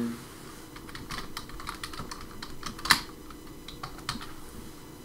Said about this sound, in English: just type in your site,